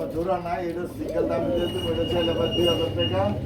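Pigeons coo in a wholesale pigeon market, a throaty, rolling murmur of several birds close by, continuous and layered under people talking nearby.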